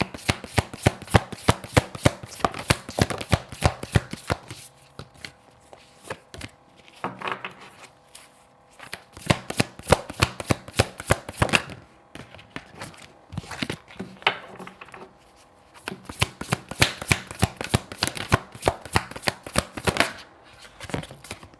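A deck of tarot cards is shuffled over and over in close, rapid riffling bursts, each run of crisp flicking clicks separated by short pauses.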